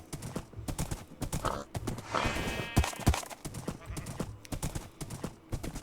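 Horse hooves clip-clop in Minecraft, an irregular run of hollow knocks with a brief whinny partway through and a voice speaking over the steps.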